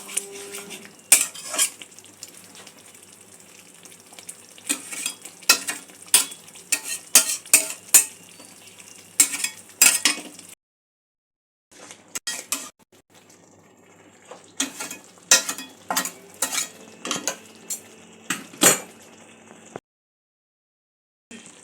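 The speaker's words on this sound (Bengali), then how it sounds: "পনিরগুলো আমি 3-4 মিনিট এখানে কষে নিয়েছি।" Paneer is stirred and fried in a pan over a medium-low flame, with frequent clinks and scrapes of a spoon against metal over a light sizzle, coming in busy bursts with a short quiet gap partway through.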